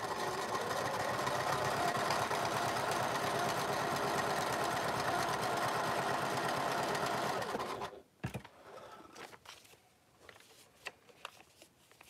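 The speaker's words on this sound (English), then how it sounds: "we're going to sew along that line, making sure that I have enough" A sewing machine stitches a quilt block seam in a steady, rapid whir for about eight seconds, then stops, leaving faint handling clicks and rustles of fabric close by.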